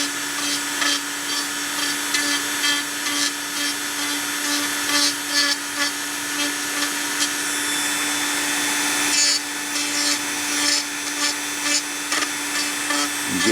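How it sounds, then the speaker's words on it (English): A small Dremel rotary tool whirs steadily as it sands hardened resin, a continuous high grinding hum with slight scraping changes and no talking. "Try using a Dremel with the sanding tool."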